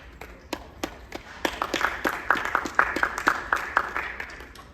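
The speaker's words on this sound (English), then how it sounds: "Let's give her a round of applause." A small audience at a mental health awareness program gives a round of applause, with scattered, uneven claps that start sparse and build into a fuller but still modest burst over a few seconds.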